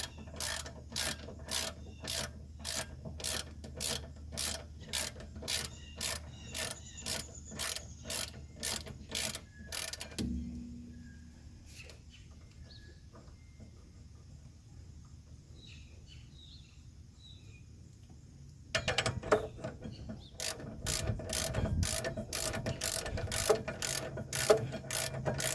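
A ratchet snugs down bolts in a rapid, even run of loud close clicks, then goes quiet for several seconds with faint birdsong before the clicking starts up again, with no voices.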